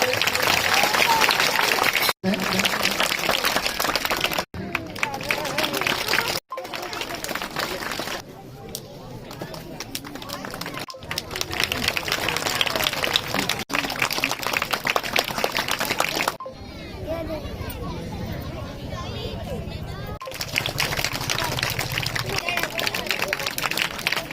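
A crowd at a school welcoming ceremony in Ranpota, Chhattisgarh claps steadily, with broad, sustained applause through most of the stretch, broken by a few brief cuts and with crowd murmur mixed in.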